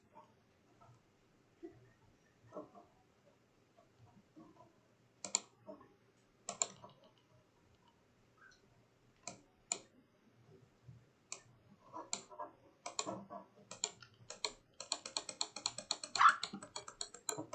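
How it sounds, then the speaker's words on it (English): Computer mouse buttons click in a quiet room, scattered single clicks at first, then quicker bursts of repeated clicking toward the end, close and sharp against near silence. "I'm just clicking and it doesn't work."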